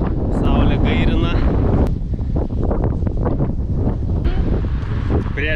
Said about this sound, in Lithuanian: Vėjas mus talžo,